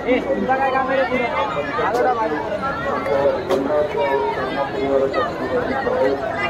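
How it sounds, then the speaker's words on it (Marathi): Steady hubbub from a large, packed crowd at a Ganesh visarjan procession, with many voices blending into a loud, continuous babble that never lets up. "गर्दी आहे मित्रांनो"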